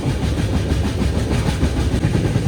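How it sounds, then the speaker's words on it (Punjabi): Train running on the way from Punjab to Takht Sri Hazur Sahib, heard as a loud, continuous low rumble with rattling wheel noise from inside a carriage with an open window. "ਲੋ ਵੀ ਆਪਣੀ ਟ੍ਰੇਨ ਹੁਣ ਜਾਂਦੀ ਆ"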